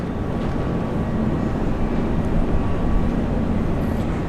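A Velocity 705 airliner arrives at Brisbane International Airport from Hobart, heard as a steady, moderately loud engine rumble and broadband roar that swells slightly midway, with no talking.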